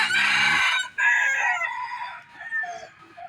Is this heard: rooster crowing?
yes